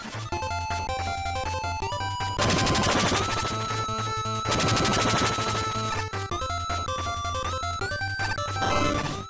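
Rapid, dense bursts of weapon fire from the Fire Dragon in a Mega Man fan game, loud bright blasts layered over chiptune music with a steady bass pulse, with two especially thick roaring stretches.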